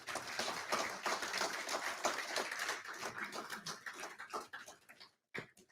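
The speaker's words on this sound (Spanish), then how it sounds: "Oiga, dése un aplauso a usted mismo ahí." Church congregation at a Spanish-language sermon applauding themselves, a dense burst of many hands clapping close by that thins into scattered claps before stopping, with a final few claps after a brief pause.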